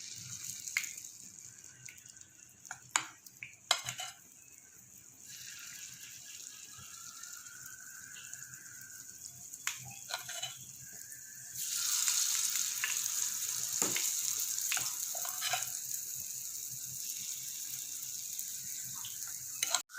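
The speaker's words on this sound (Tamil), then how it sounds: "இப்போ மாவு ஒரு குழியிலையும் கொஞ்சம் கொஞ்சமாக ஊற்றிக்கலாம்." Wheat banana paniyaram batter sizzles and fries in an oiled paniyaram pan, a quiet crackle at first that swells into a steady, loud, hissing sizzle partway through, with a few small clinks along the way.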